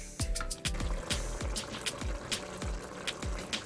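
Spicy beef stew with hot pepper being stirred in a pot, giving a repeated wet, squelching slosh of thick liquid and chunks in a steady rhythm of about ten strokes, close and fairly loud, with no talking.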